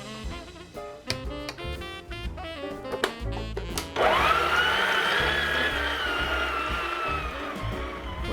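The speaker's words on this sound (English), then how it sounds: "my mixer did a great job, and now I'll add the fruit, and I will have the mixer doing a little bit more work" An electric mixer beats stollen dough with fruit, starting with uneven knocking and clattering as pieces drop into the bowl, then rising into a continuous whining motor hum that stays steady and fairly loud to the end.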